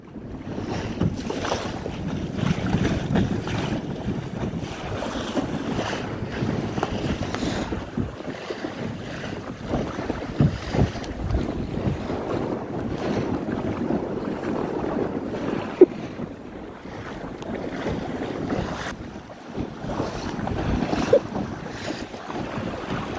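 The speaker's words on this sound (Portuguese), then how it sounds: "Agora vamos voltar pro vídeo que o vento tá bom aqui." Wind roars across a microphone aboard a sailboat at sea. Constant loud gusting mixes with the wash of waves and the hull for the whole stretch.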